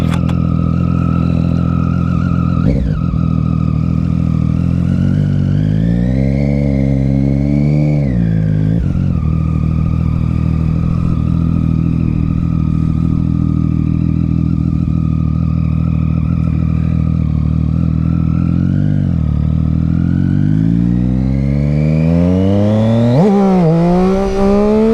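Triumph Street Triple R motorcycle ridden hard, its engine revving up through rising pitch sweeps, dropping sharply at each gear change, then climbing again in a loud, continuous close-up roar.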